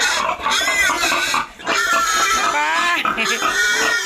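Hungry pigs on a farm squeal and grunt loudly and continuously at close range in a dense overlapping chorus, with short dips between bursts and a brief spoken word underneath.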